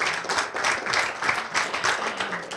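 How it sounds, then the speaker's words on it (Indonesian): Moderate audience applause at an interfaith dialogue forum, a short steady patter of many hands clapping without pause. "Tepuk tangan."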